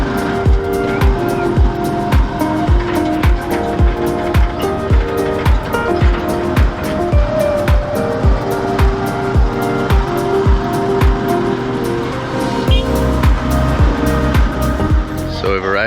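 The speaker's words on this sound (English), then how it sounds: "the sheer amount of tricycles though is unbelievable" Loud, continuous motor traffic in Masbate, Philippines, with buzzing motorized tricycles passing close by one after another, revving and droning steadily throughout.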